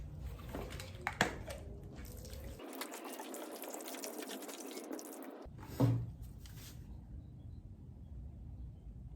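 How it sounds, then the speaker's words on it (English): Warm water poured onto a compressed growing-medium brick for microgreens, a running, splashing pour that pauses in the middle and resumes, with a few drips and knocks, close by and with no talking. "I like to use warm water."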